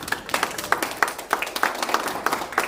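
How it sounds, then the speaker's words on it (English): Audience at a high school alumni panel applauds, with distinct individual claps standing out in a fairly sparse, uneven rhythm from a modest crowd. "the round of applause for Nancy"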